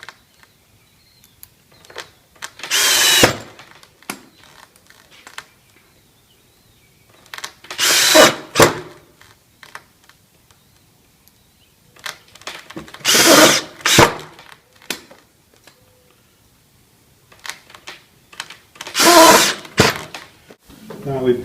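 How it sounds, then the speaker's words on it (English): A power drill drives 1 1/4 inch drywall screws into a thicker door jamb in four loud, separate bursts of a few seconds each, with quiet gaps and faint handling noise between them. "I use 1 1/4 inch drywall screws back here where the jamb's thicker, and run those in the other"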